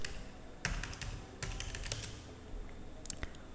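Number keys tapped on a computer keyboard in quick bursts of crisp clicks, with short pauses between groups of keystrokes, close and fairly quiet against a low background hum.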